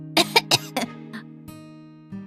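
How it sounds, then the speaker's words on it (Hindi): Several short coughs and throat-clearing sounds from a woman irritated by smoke from a roadside meat grill, close and loud in quick succession, then trailing off over a steady low hum. "खांसी आती है।"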